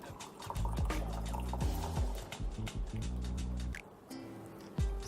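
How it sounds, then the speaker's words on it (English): Hot water sloshes around inside a teapot and then pours out in gurgling, splashing bursts with drips, loud and close, pausing briefly before a final splash. "So you just swirl it around and pour the water out."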